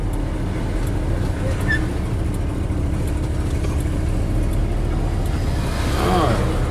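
A truck engine runs steadily at low speed while driving and backing in, with a constant rumble under the road noise and a faint rise near the end.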